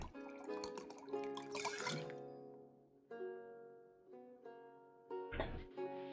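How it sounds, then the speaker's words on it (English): A fresh drink is poured in the video game Card Shark, giving quick liquid trickles and drips over tonal music notes, with a splashy burst near the end. "you pour me a fresh drink"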